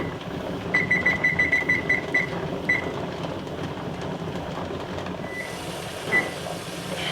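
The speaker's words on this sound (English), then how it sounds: "The timer has gone off" Kitchen timer for a pressure canner venting steam, beeping in a quick regular series of about eight short tones, then a few isolated beeps over a steady background hiss.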